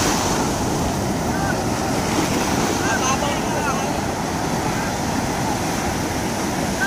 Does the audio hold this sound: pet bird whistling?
no